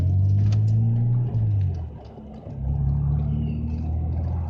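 A Toyota Supra engine rumbles low and steady while pulling in, its deep tone dipping briefly and then swelling again, close and loud throughout.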